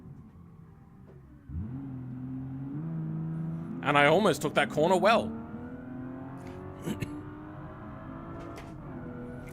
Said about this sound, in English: I don't actually know what engine is in his thing, but it does sound very smooth. So it's probably a V12